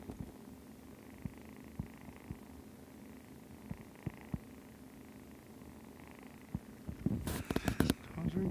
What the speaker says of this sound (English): Listen to these little kitten purrs.